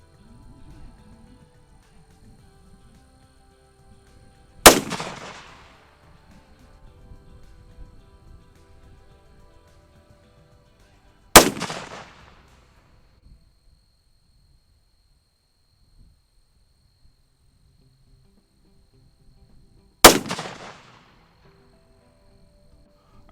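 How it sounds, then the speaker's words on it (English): Three sharp, loud rifle shots from a Browning X-Bolt Hells Canyon in 6.8 Western, each spaced several seconds apart and followed by a short ringing decay outdoors, with quiet background between. "So let's fire 3 more and see what they look like."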